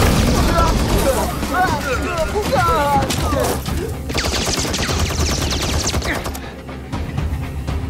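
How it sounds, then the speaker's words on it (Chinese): Gunfire in a dramatic jungle battle scene, dense concentrated shooting with booming shots layered under shouting voices, loud and continuous throughout. "集中火力射击！"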